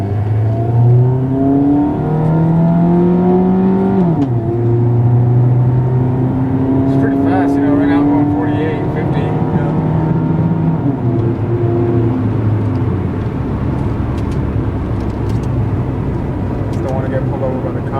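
A 35 hp 2003 Suzuki Aero engine drones loudly and close through its exhaust on a test drive, its pitch rising and dropping as it accelerates and shifts.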